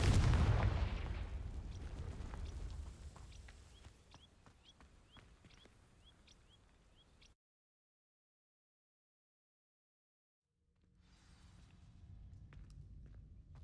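A Confringo fire spell is cast at dry vines in Hogwarts Legacy, giving a loud burst that fades over several seconds, broken by a string of faint pops. Near-silence follows, then a low ambient hum returns.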